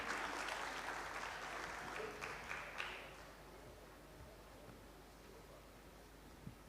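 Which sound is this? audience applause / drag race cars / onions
audience applause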